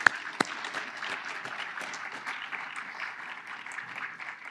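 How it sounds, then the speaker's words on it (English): An audience at a closing session giving a round of applause for sponsors, steady moderate clapping from a crowd, with a couple of sharper claps near the start. "So let's give them a round of applause."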